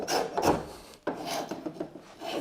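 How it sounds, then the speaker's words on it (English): Coarse-set spokeshave shaving wood while carving a spiral seashell, heard close as loud rasping strokes, a short pause near the middle, then quicker scraping passes. "So this is kind of a coarse set spoke shave"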